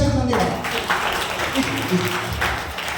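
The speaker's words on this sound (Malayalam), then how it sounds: "കൈയടിച്ച്" A church congregation bursts into clapping during a Sunday worship service, a sustained burst of many hands that fades out while a voice talks over it.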